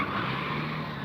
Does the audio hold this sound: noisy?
yes